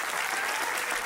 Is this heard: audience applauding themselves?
yes